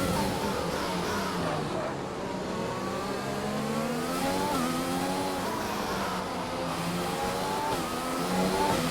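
A Formula 1 race car engine in a racing video game on the Australia circuit, a steady loud whine rising and falling with gear shifts, continuous throughout with no talk over it.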